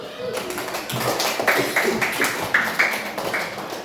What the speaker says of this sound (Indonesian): Tepuk tangan lagi semua dulu.